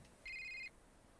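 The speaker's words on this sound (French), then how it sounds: "Ah oui, le téléphone." A telephone rings in the video game A Short Hike: one steady electronic ring lasting under half a second, clear and alone against quiet background.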